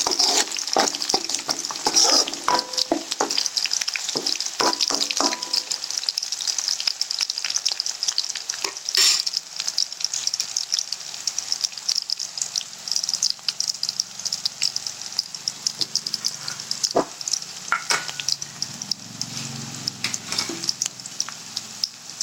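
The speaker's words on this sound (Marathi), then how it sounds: "हा थोडासा अद्रक लसूणचा पेस्ट टाकायचा, शिजू द्यायचा." Onions browning with ginger-garlic paste sizzle steadily in a pan for a Maharashtrian bhaji of field beans and val pods, with a bright continuous hiss broken by occasional stirring scrapes and clinks throughout.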